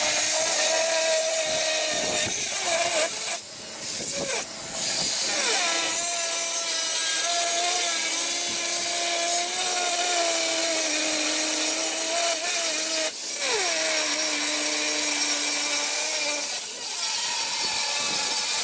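A cut-off wheel slices through the front beam of a 1960 VW Beetle, a steady loud whine with shifting pitch running continuously, briefly interrupted by a few scraping pauses, with no talking.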